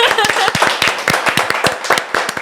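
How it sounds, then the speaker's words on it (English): Rapid, irregular hand clapping from a small group, fairly loud and close, with sharp claps packed together and some voices mixed in. "I love the clap"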